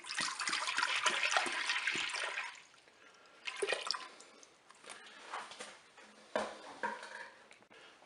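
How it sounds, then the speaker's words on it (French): Milk pours into the bowl of a Cookeo multicooker set to manual browning mode for an orange semolina cake. A steady, splashy liquid rush runs for about two and a half seconds, then gives way to quieter drips and a few light knocks. "Je vais maintenant verser le lait dans la cuve."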